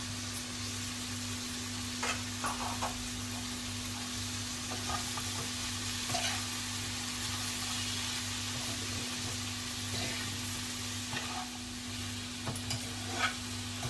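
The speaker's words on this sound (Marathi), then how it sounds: "आता भेंडी चांगली मिक्स करून घेतलेली आहे फोडणीमध्ये" Steady sizzling of okra stir-frying in hot oil tempering, with occasional soft stirring scrapes, continuous and fairly close, no talking.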